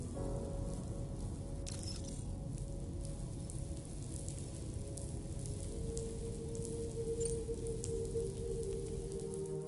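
Steady rain falls in the Death Stranding 2 video game, a dense continuous patter of drops on surfaces with a faint low tonal hum beneath, even and unbroken throughout with no talk.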